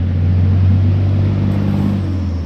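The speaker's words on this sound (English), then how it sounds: "God damn, big ass truck." A big truck passes close by with a loud, steady low engine rumble and roadway whir that holds for a couple of seconds before easing slightly.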